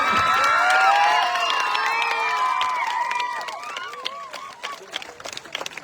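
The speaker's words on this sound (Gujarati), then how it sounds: "હવે તાળીઓ હાથ ફરી જાય એટલી વગાડો" A crowd at a village farmers' rights rally in Gujarat claps and cheers loudly, with high shouts and whistles that peak early and then thin into scattered claps.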